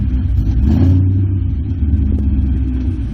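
A car engine with traction control switched off revs hard, a loud close rumbling drone holding high RPMs throughout with slight rises and dips, no talking over it.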